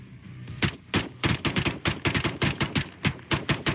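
Gunfire aimed at drones rings out in rapid bursts of sharp, loud shots, close by and uneven in rhythm, with no talk over it.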